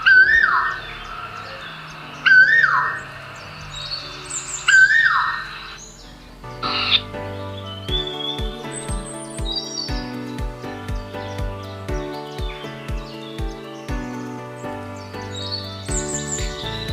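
Birds chirp and call in short bright bursts, answered by squawk-like cries, then a melodic stretch of tuneful notes carries on steadily to the end.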